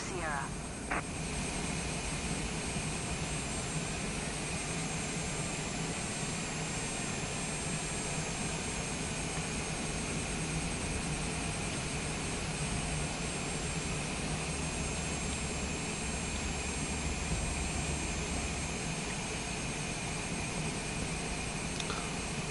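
A Cessna engine in Microsoft Flight Simulator 2024 drones steadily as the plane takes off, a loud continuous hum across the whole stretch with radio-style voices talking over it.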